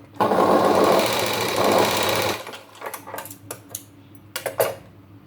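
Sewing machine stitching a blouse lining runs loud and steady for about two seconds, then stops, followed by scattered clicks and small handling knocks.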